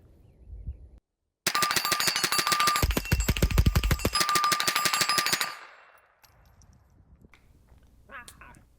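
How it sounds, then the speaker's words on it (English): A Smith and Wesson M&P 15-22 rifle in .22 LR empties a full magazine at a 10-inch steel plate 20 yards away, a rapid, steady string of sharp close shots with ringing impacts, followed by quiet. "Here's me running a full mag at 20 yards on a 10-inch plate."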